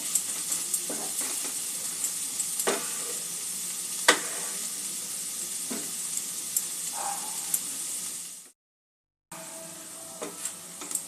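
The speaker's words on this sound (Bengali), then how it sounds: "মশলার সাথে ফুলকপিটা একটু কষিয়ে নেব।" Cauliflower sautéing with spices in a pan, a close steady sizzle broken by intermittent stirring scrapes and taps, with a brief gap of silence near the end before the sizzle resumes.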